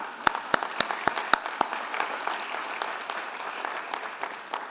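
Audience at a chancellor investiture ceremony clapping, beginning with a few sharp, distinct claps near the microphone and then spreading into lighter, scattered applause from the room.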